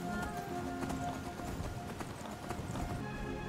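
Horse hooves clip-clopping at a steady trot on a path in Skyrim, quick rhythmic thuds close by under faint ambient game sound, with no talk.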